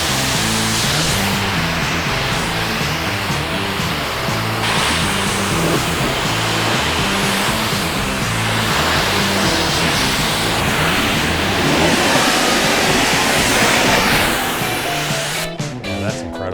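Two pressure washers flowing 4.5 gallons a minute spray a car in a steady, loud hiss of water, constant and close with no pauses.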